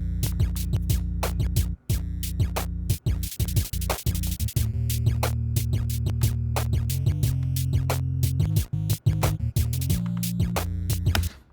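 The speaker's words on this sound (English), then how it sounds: "our new bass line sounds like this" A new bass line in an electronic music production plays over a busy drum and percussion pattern, with a low sustained bass under dense, rhythmic hits throughout and no voices.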